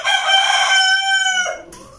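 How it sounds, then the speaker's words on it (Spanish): A rooster crows loud and close in one long, drawn-out call of about a second and a half that trails off at the end, with no voices over it. "Se tentó el gallo."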